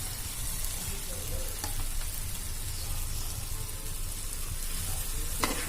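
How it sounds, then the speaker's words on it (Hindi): A tomato sauce mixture stirred in a frying pan, giving a continuous close sizzle and crackle of frying with faint scraping from the stirring throughout. "फिर इसको अच्छे से मिक्स कर लेंगे।"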